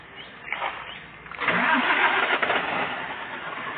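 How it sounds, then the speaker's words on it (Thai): A car engine cranks briefly, catches and starts, then settles into a steady, smooth idle close by. "เสียงเครื่องนี่นิ่มมากนะครับ"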